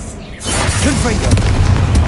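The Confringo spell in Hogwarts Legacy sets off a loud, close booming blast that swells and rumbles on for about two seconds, with a voice over the noise.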